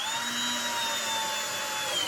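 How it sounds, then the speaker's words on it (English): A power drill drives screws through cabinet leg plates into pre-drilled holes, a steady high motor whine with a faintly shifting pitch, close and loud for about two seconds. "I'm going to just now screw the plates down in place here in my pre-drilled holes."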